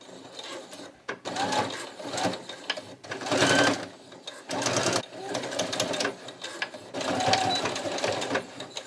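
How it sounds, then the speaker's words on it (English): A sewing machine runs a straight stitch through fabric coated with bonding, whirring in several bursts with brief stops between runs, close and steady. "Let's see what this does with a straight stitch."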